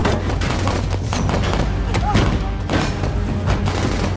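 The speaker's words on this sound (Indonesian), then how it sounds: "Dan adu tembak antara tim keamanan Sophie dan organisasi Adam pun terjadi." A film gunfight between a security team and an armed organisation: repeated shots and booms crack over a dense, loud action mix, with voices faintly underneath.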